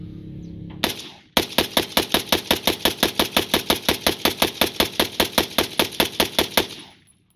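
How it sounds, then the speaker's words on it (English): A firearm fired in a fast, steady string of close, sharp shots, more than twenty in quick rhythm, after a brief mechanical clatter, ending in a fading tail. "For right now, I'm just gonna shoot it."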